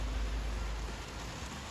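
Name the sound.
rain falling, collected in rubbish bins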